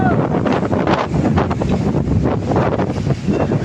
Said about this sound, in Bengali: বাতাসের গতিবেগও অনেক বেশি